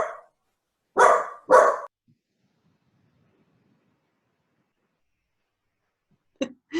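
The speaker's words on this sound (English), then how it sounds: "Doggy's barking." A dog barking indoors, a short single bark followed by two loud, closely spaced barks, then silence and a final quick pair of barks.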